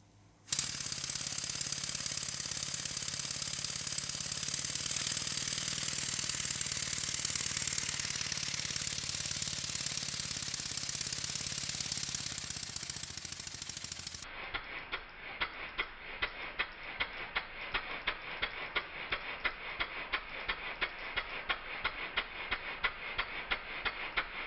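A Stuart 7A model steam engine set on a Scotch-Brite pad runs with a rapid, even mechanical ticking and clatter, preceded by a broader hissing, rushing stretch; fairly quiet and close, with no voices.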